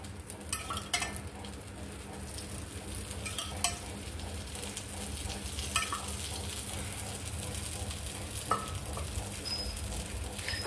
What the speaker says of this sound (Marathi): वरून पण थोडंसं दुसरी बाजू शिजण्यासाठी आपण तेल टाकून घेऊ